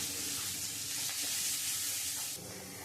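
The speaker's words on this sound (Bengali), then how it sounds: "দিয়ে আমি খুব ভালো করে আবার একটু কষিয়ে নেব।" Onion fries in a pan with ground cumin, coriander, chilli, turmeric and salt, a dense, close sizzle with a few soft stirring scrapes, dropping slightly in level near the end.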